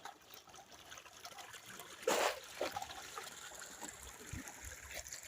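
Rainwater trickling and splashing in a village where people wash sand, a faint ongoing dribble with a brief louder gush near the middle and a few small splashes.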